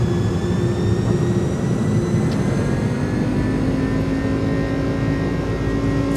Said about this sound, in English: Engine's coming up.